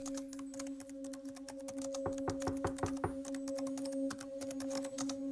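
Steady keyboard typing with irregular clicking keystrokes over a constant electrical hum, close and moderately loud.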